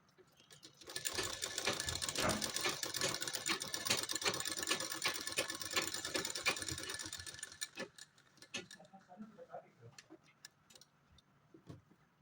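Sewing machine running in a steady continuous burst while stitching a suit, the motor whirring and needle clattering rapidly for several seconds before stopping, followed by scattered light clicks and handling noises.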